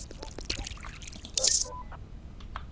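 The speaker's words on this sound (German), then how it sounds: "Geben wir doch denen noch ein bisschen Wasser." Water poured onto plants from a bottle in Drug Dealer Simulator, heard as a few close drips and a short splashing pour in the middle, set against quiet background with a faint voice-like murmur.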